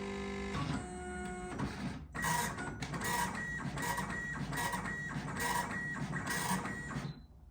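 A Panasonic KX-P2123 dot matrix printer runs a self-test after a brief whirring start, then prints loud, buzzing, rasping lines in a steady rhythm of repeated passes before stopping abruptly.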